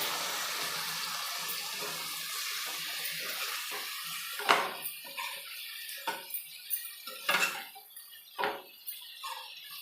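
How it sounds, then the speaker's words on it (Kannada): About a glass of water poured into a pan of dry-roast cauliflower with salt and spices, a loud rushing hiss at first, then a series of splashy gurgling bursts as it settles. "ಒಂದು ಒಂದು ಗ್ಲಾಸ್ ಆದಷ್ಟು ನೀರು ಸೇರಿಸ್ತಾ ಇದ್ದೀನಿ"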